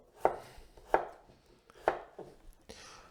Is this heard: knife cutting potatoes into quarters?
yes